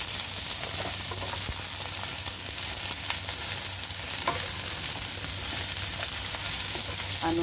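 Baby broccoli and chicken breast stir-frying in a pan: a constant, loud sizzle fills the whole stretch, with occasional scraping and stirring knocks over the top.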